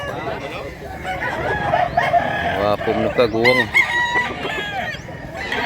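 A rooster crows in long rising and falling calls among clucking fowl, near and loud, with someone talking over it.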